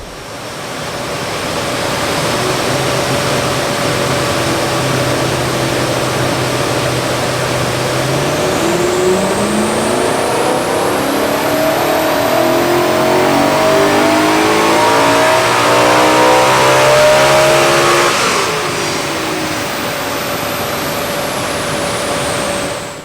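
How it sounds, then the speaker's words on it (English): A BMW E9X M3 fitted with an Eventuri carbon intake runs up on a dyno, its engine note climbing steadily in a loud, close sweep to high revs before dropping back, with a whooshing intake roar and no talking. "So we've just finished dynoing the M3 with the Eventuri intake on there."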